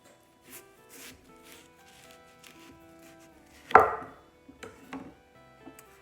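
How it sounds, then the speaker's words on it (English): A knife cuts the end off a whole watermelon, giving soft scraping cuts and one sharp, loud chop midway through, with quieter thuds and rubs after it, close by and without talk. "I'm going to spin it around"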